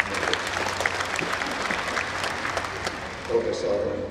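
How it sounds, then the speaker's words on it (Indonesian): An audience at a ceremony installing a new professor applauds, dense sustained clapping filling the hall at an even level throughout, with faint voices mixed in. "Mari kita tepuk tangan."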